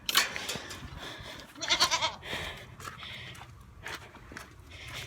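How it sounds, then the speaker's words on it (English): Goats on a farm bleat loudly and repeatedly at close range, several calls in short bursts over a quiet outdoor background. "better let the goats out, because they won't stop screaming"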